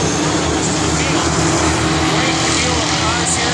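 Pro stock race cars running three wide through a turn during a 40-lap feature, a dense continuous engine roar from the pack under a commentator's voice.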